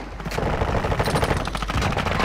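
A sniper rifle shot in Call of Duty: Modern Warfare II sounds amid dense, loud, continuous gunfire and game action, with sharp cracks layered over a steady rumble throughout.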